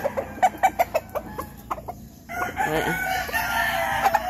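Gamefowl roosters at a game farm fight and cluck up close, with a rapid run of sharp clucks and squawks, a short pause, then a sustained loud crowing cry from the birds.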